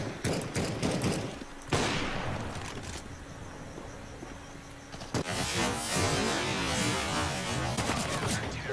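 Gunfire in the video game CS:GO, shooting through walls, comes as rapid bursts of shots with sharp cracks, a lull and then more sustained firing.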